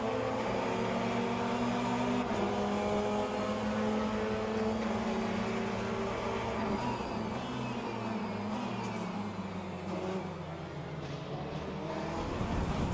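LMP2 prototype race car engine in a WEC racing game, a steady droning roar with harmonic bands that shift in pitch as it follows closely behind, loud and continuous throughout.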